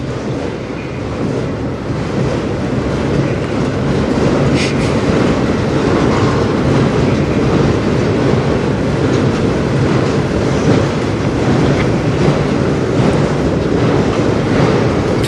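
A CN freight train rolls past on the Strathroy Subdivision, a loud, continuous rumble of wheels and cars with steady clatter throughout.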